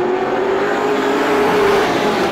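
Race cars roar off at the start of a heat race at Star Speedway, a loud continuous engine drone with a sustained tonal whine from a pack of accelerating cars.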